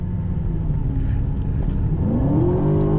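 An Aston Martin DBX SUV accelerating from inside the cabin, a loud steady low engine drone that rises in pitch toward the end as the automatic gearbox kicks down.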